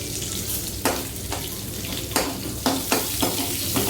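Cumin seeds frying in hot oil, a loud close sizzle with several sharp crackling bursts and pops spread across the few seconds.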